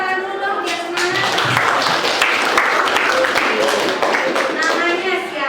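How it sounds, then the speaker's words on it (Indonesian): Classroom applause from students, a sustained patter of clapping mixed with children's voices and a teacher speaking over it, steady and fairly close throughout. "Tepuk tangan dulu dong, biar semangat."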